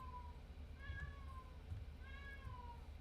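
A cat gives two drawn-out, plaintive meows about a second apart, faint and somewhat distant over a steady low background hum, with no talk.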